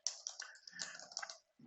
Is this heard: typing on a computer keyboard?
yes